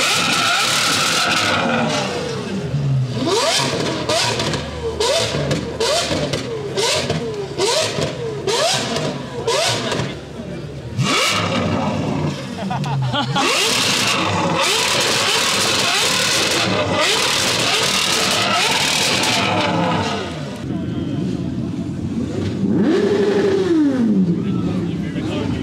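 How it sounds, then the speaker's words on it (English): Ferrari engine revving loudly at a crowded car meet, with bursts of acceleration and revs rising and falling over continuous crowd chatter and other passing cars. "that Ferrari sounds good"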